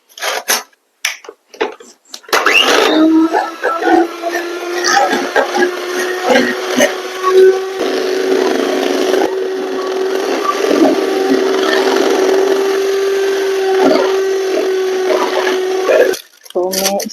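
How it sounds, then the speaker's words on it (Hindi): An electric beater whips about 238 grams of sweetened cream into a thick texture, its steady motor whine droning close and loud for roughly thirteen seconds before cutting off, with clattering handling noises around the start and end. "इसको मैं क्रीम की टेक्सचर में लाऊंगी अभी बीटर से।"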